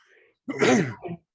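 A single sharp sneeze bursts out loud and close after a brief quiet pause, trailing into a short second exhale, with faint murmuring voices beforehand.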